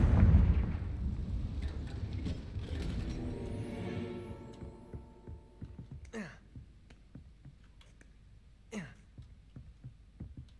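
A Confringo fire spell explodes in Hogwarts Legacy, a loud deep blast and rumble at the start that slowly fades over several seconds, then quieter game ambience with a couple of brief sharp sounds later.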